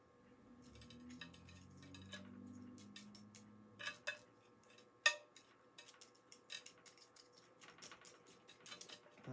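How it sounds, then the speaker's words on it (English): Dr. Earth potting soil mixed up in a container, a series of scraping and clinking strokes with irregular rhythm, close and fairly quiet, with no talking. "I'm going to mix it up real good."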